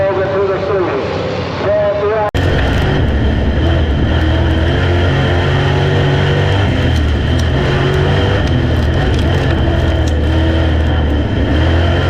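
Street stock race cars roar past on a dirt oval, their loud, sustained engine drone filling the track after a short quieter opening, with commentary voices mixed in.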